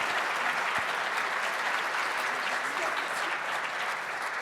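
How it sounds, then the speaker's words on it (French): An audience at a panel discussion on retirement age and working life gives continuous applause, a fairly quiet but steady wash of many hands clapping for several seconds. "Je pense qu'une main d'applaudissement se mérite."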